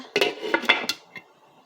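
A metal lid set onto a cooking pot of mung bean and vegetable curry, a quick cluster of close, bright clanks and rattles followed by one softer tap, then quiet.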